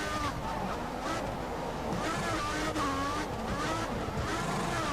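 An F1 race car in the F1 2014 video game at the Singapore Grand Prix, its engine whining steadily at high revs with shifting pitch, a continuous loud drone with no pauses.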